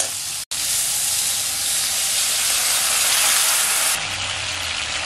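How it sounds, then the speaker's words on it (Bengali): Water poured bit by bit into a pan of frying spices and tomato sets off a loud, continuous steamy sizzle and hiss that holds steady for several seconds, with a brief cut near the start. "এবার আমি একটু একটু জল দিয়ে দিচ্ছি।"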